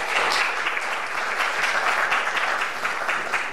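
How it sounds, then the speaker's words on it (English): Sustained applause from a conference audience after a talk at a scientific Python meeting, a dense, steady wash of many hands clapping at even loudness throughout. "give Iván a big applause for his talk"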